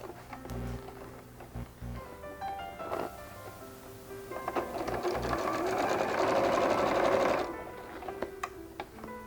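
Sewing machine stitching a fabric tote bag, starting with short stop-start bursts and rising into a longer, steady run of fast rhythmic needle chatter before easing off.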